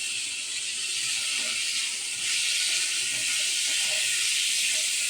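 Tomatoes frying in oil in a pan while a spicy cowpea curry is cooked, giving a steady close hiss of sizzling that runs alone throughout, slightly louder toward the end.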